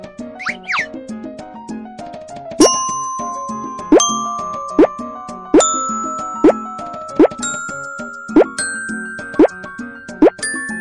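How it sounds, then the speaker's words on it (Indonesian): Hanging bottles struck one at a time in a cartoon music scene, producing about eight clear, ringing plop-like tones in a steady rhythm, each with a sustained pitched ring, close and bright with no talking. "Ketuk di sini dan dengarkan suara botol-botol ini."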